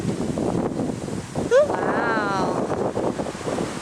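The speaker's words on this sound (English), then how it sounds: "It's so windy today." Strong wind gusting across the microphone outdoors in a park near a bridge and water, a steady loud rumble with a brief exclamation from a person partway through.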